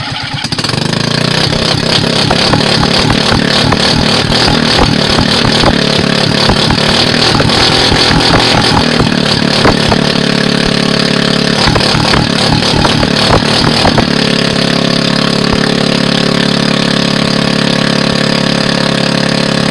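A homemade gas scooter engine runs rough at idle on a rich carburetor, loud and close, with an uneven sputtering beat and surging revs that dip and recover.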